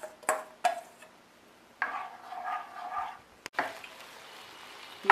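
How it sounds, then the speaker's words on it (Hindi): Spinach soup boils on a gas stove in a frying pan, giving off bursts of bubbling hiss between sharp clicks and knocks, close and fairly quiet. "फ्राई पैन में इसको डालेंगे और दो उबाल आने तक हम इसको पकाएंगे"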